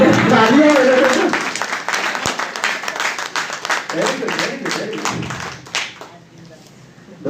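An audience at a Hindi farming talk on chemical-free crops claps together in loud sustained applause that thins out into scattered claps and fades to near silence.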